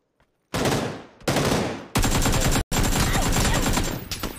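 Loud, close automatic gunfire from a shooter video game comes in long rattling bursts with brief gaps between them, dominating the scene without talk.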